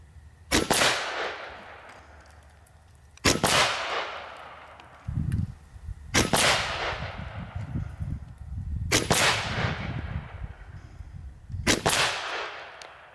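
Five sharp, loud cracks from a Seneca Recluse .357 big-bore PCP air rifle, spaced a few seconds apart, each ringing off into a decaying echo, with quieter rustling and handling noise between shots outdoors.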